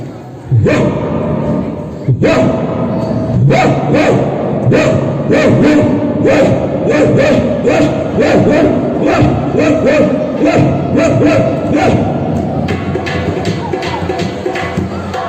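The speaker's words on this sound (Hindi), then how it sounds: "सुनिए डॉबरमैन कैसे भौंकता है।" A heavy Doberman barks repeatedly in loud, sharp bursts, mixed with crowd-like background voices and noise throughout.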